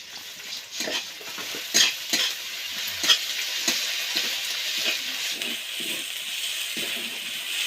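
Garlic and ginger paste frying in a pan with fried onions, a close, bright sizzle broken by repeated stirring scrapes and occasional utensil knocks, with no talking.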